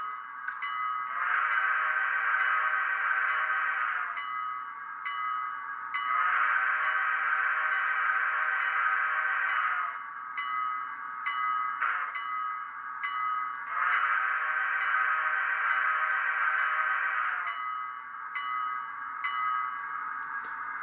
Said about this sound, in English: The whistle's not overbearing.